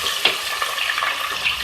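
Chicken frying with onions and ginger-garlic paste, a bright, dense sizzle that holds steady from start to finish, with a few soft stirring scrapes close by.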